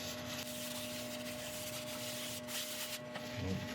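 Abrasive paste is buffed into a metallic epoxy resin inlay in wood with a steady, faint rubbing hiss that continues evenly, with a slight change near the end.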